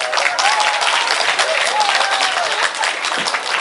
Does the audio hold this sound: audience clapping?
yes